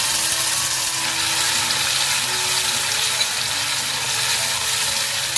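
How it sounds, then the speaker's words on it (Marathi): Garlic, curry leaves, Kashmiri chilli and tomato paste hit hot oil in a tempering for a surmai fish dish. A loud, dense, continuous sizzle crackles close up throughout, with no talk. "आता आपण फोडणी द्यायला घेतोय इकडे आपण लसूण घालते कढीपत्ता काश्मीरी मिरची आणि टमाटाची पेस्ट केलेली ती घालून घेते"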